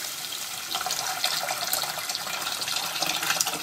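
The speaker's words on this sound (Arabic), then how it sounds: "وهبدأ انزل بمية بأي كمية انت عايزاها" Water pours into a pot of cooked-down tomato sauce with a steady, continuous splashing rush, close by and fairly soft, running the whole time.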